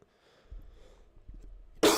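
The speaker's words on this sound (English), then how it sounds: "I apologize for coughing in all your ears." A person coughs a few times in short low bursts, fairly close and alone with no talk, followed by a sudden loud burst of broadband noise at the end.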